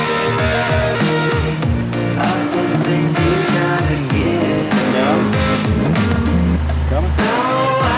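An overland vehicle crawls over a technical driving course, its engine droning and revving loudly up close while someone talks over it throughout.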